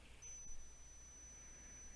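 A thin, high-pitched continuous beep from a multimeter continuity test starts and holds steadily, faint over a low background hum.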